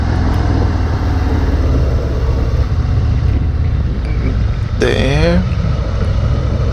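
A 2019 Harley-Davidson Fat Boy 114 on a test ride up a mountain road, its engine a loud steady rumble with wind buffeting throughout, and a rider briefly talking over it.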